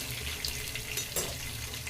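Whole spices (cinnamon stick, cloves, bay leaf and cardamom) sizzle in hot oil for chicken biryani, a steady close crackling fry with a few brief bursts.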